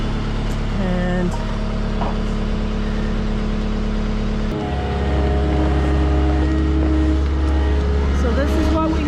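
A skid steer works the scrape alley of a dairy barn, its engine a loud, steady drone that shifts to a deeper, heavier tone midway through as the machine loads up.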